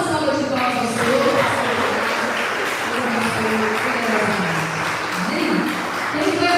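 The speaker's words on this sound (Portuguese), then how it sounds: "Dá uma salva de palmas ao Senhor." A church congregation applauds steadily through a Sunday evening service, a dense sustained patter with voices and speech mixed in throughout.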